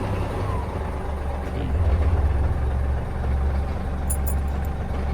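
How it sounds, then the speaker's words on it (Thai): A Hino S700 truck idles with a low, steady engine rumble that swells slightly as the accelerator is touched, close by, with a brief hiss near the end. "เนี่ยมันจะค่อยเร่งขึ้นไป เดี๋ยว พอเราแตะ คันเร่ง"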